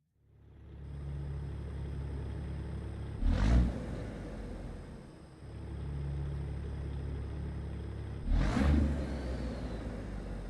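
Sim-racing car engine in iRacing: a steady droning engine with two brief louder revving surges, heard alone with no voices.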